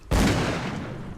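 A single loud gunshot in the video game Call of Cthulhu: Dark Corners of the Earth, opening with a sharp close crack and trailing off into a long booming reverberant tail with no voices.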